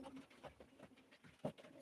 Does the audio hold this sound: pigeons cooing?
yes